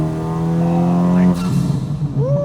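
A 600 HP Civic Type R fitted with a Tomei exhaust revs hard, a loud, close, rising engine note that holds, then falls away briefly before climbing again.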